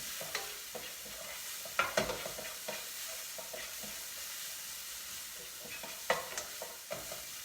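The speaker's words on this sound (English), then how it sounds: "let me stir this up so we can get all this good cumin flavor in" Vegetables seasoned with cumin are stirred in a pan, a steady sizzle carrying a series of scraping stirs with sharper clatters near the start and end, close and fairly quiet, with no talking.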